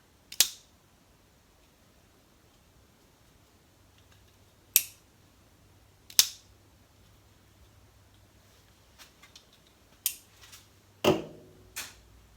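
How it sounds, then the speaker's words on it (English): A spring-loaded automatic knife fires its blade with a sharp metallic snap, one of several crisp, isolated clicks and snaps in a quiet room, with no talk. "when I press this, the trigger button, the spring activates and deploys the blade"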